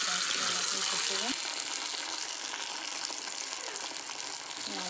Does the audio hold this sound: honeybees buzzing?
no